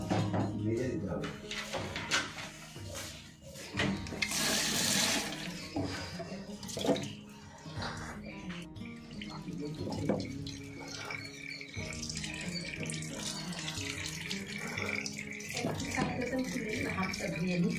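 Tap water runs and splashes into a sink while hands are washed, with the flow changing as hands move under it, mixed with clatter and a voice talking nearby.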